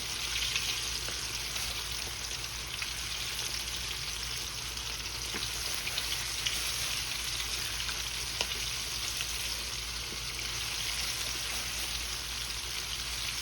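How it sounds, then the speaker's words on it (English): Steady, dense sizzling and crackling of chicken frying in hot oil in a pot, continuous and close throughout with no talking. "Just frying chicken in a pot,"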